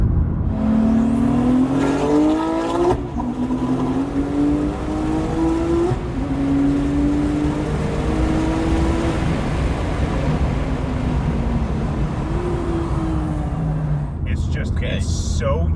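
A Honda Civic Type R engine revs and accelerates through repeated rising pulls with gear changes, loud and close, as heard from inside the car, no voices.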